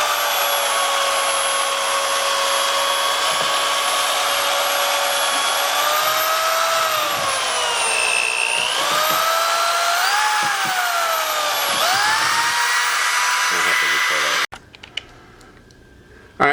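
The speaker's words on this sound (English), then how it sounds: "once you've added the water, added the washing powder and the borax and the melted soap, you want to go ahead and mix it" Homemade laundry soap of water, washing powder, borax and melted soap being mixed with a power mixer, a steady loud whir with pitch that rises and dips for about fourteen seconds before cutting off abruptly.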